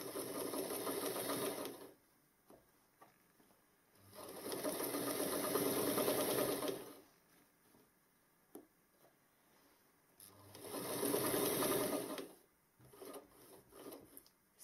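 A sewing machine stitches a zip into a 1950s-style skirt in three loud, steady runs of fast mechanical whirring, separated by quiet pauses with small clicks and handling noises.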